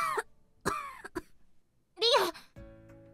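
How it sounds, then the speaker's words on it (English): A female game character breaks into a short coughing fit, several sharp throat-clearing coughs with brief pauses, close and clear over a faint musical tone. "She broke into a minor coughing fit."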